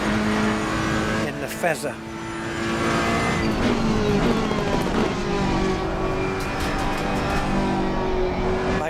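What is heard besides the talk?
McLaren race car engine lapping Silverstone in Assetto Corsa Competizione video game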